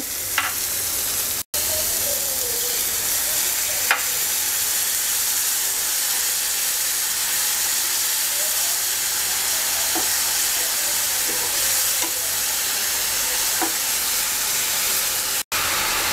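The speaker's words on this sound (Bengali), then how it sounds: "অল্প একটু পানি দিয়ে টমেটোটা গলে যাওয়া পর্যন্ত কষিয়ে নেব।" Tomato sautéing with roasted cumin powder, coriander powder and a splash of water gives a steady, close sizzle that holds throughout, with a few faint utensil taps and no talking.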